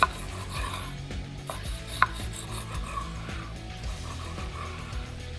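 A knife cuts slices from a smoked pork jowl, giving soft repeated scraping and chopping strokes with one sharper tap, close and fairly quiet, with no talking.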